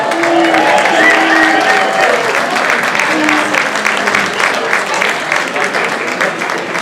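An audience at a celebration in a stone church gives a sustained round of applause, dense clapping throughout with a few brief voices mixed in.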